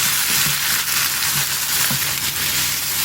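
Onions, curry leaves and coriander stems sauté in a hot pan for a Tamil mochai kottai brinjal kuzhambu, giving a steady, close sizzle with soft stirring scrapes, with no talking.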